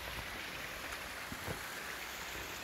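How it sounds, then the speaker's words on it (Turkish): Water rushes down a small waterfall and stream on a hillside, a close, constant broadband roar that stays steady from start to finish with no voices. "Buradan akan su."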